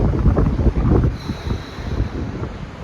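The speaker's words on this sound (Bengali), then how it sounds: "প্রচন্ড হাওয়া চলছে" Strong wind gusts roar steadily across the microphone at Udaypur beach near Digha, a loud, continuous buffeting rumble under dark rain clouds with no voices.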